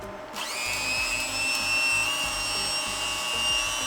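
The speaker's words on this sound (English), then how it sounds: "Luckily, I have a spice grinder in the van, so just throw some sugar in there, and then we're just gonna grind it up" A small electric spice grinder whirs steadily as it grinds ordinary sugar into powdered sugar inside a camper van, starting abruptly and holding a loud, even motor whine with no talk.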